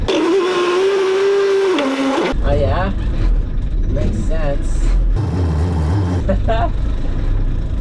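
A truck engine idles and revs as the vehicle shifts through gears and backs up, with a steady drone under occasional brief spoken remarks.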